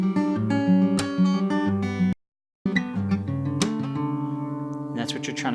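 An acoustic guitar is played in a pluck-and-chuck pattern at full tempo, with plucked bass notes alternating with percussive muted strums in a steady, close rhythm, broken by a brief pause midway.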